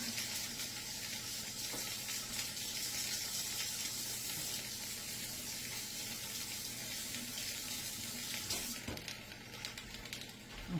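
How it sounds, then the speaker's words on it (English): Steady running water from a kitchen sink tap while hands are washed mid-way through baking Portuguese sweet bread, a continuous close hiss that thins out near the end. "let me wash my hands real fast"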